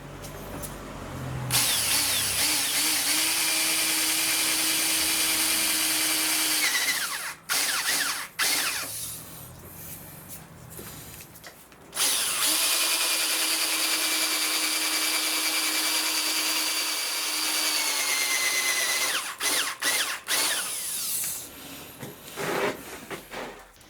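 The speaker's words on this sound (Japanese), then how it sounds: "毛書きとポンチが終わったらセンタードリルで下穴を開けておきます。" A center drill bores pilot holes in metal for a home-built motorcycle maintenance lift, in two long sustained whirring runs separated by a short pause filled with scraping and clatter.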